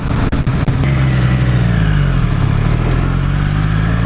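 A Triumph Street Triple 765 RS motorcycle in track mode pulls hard from a few clattering blips into a loud, sustained engine roar under acceleration, close and without speech.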